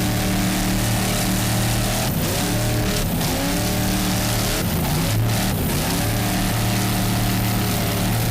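Offshore racing powerboat engines, a Pantera V-bottom among them, roar loud and steady as the boat pounds through very rough, bumpy seas off Deerfield Beach, with surges and bursts as the hull slams over the waves.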